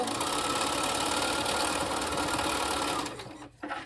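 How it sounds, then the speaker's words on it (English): A sewing machine stitches a 1/4 inch seam on a scrappy quilt, a loud, steady, close mechanical whir that slows and stops near the end. "So just still doing a 1/4 inch seam."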